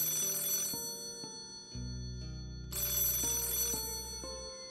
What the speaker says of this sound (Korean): 매장으로 한 통의 전화가 걸려오고